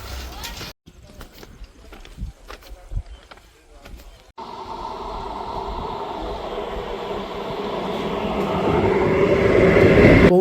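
A train pulls into Sealdah station in Kolkata, a brief station-floor clatter with voices first, then a sudden rise of rolling wheels and rumble that swells louder and steadier as the train arrives.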